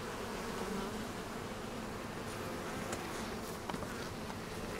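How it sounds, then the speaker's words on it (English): A crowd of honey bees in an open hive gives off a dense, continuous buzzing drone. It holds at a steady level from start to finish, close and enveloping, with no voices. "we have a lot of bees in this hive"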